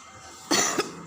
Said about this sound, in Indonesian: jangan ikutan batuk ya